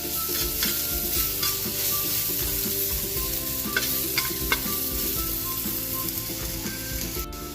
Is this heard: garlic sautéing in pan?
yes